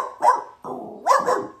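A dog barks three times in quick succession, close and loud, with short gruff barks and no talking.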